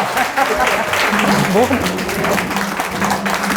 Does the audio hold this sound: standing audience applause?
yes